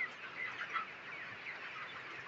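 Healthy farm chickens cluck and chatter steadily at moderate distance, with overlapping soft calls forming a continuous flock murmur and no talk.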